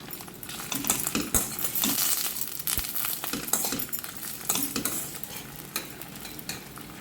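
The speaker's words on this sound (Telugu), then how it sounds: "కడాయిలో నూనె పోసి వేడి చేసుకుని ఈ దొండకాయ ముక్కల్ని వేసేసుకుని వేగించుకోవాలి కరివేపాకు కూడా వేసుకోవాలండి" Ivy gourd (tindora) pieces fry in hot oil in a kadai with curry leaves, giving a steady close sizzle broken by clinks and scrapes of stirring against the pan, with no talking.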